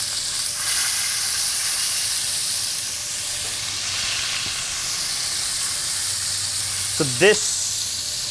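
Short ribs sear in a hot pan with a loud, continuous close sizzle and hiss throughout. A voice speaks briefly near the end.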